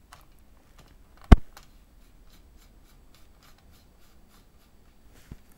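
A small lavalier microphone is fitted back onto a little stand, producing one sharp close click with faint rubbing and handling noise around it and another soft knock near the end, with no talking.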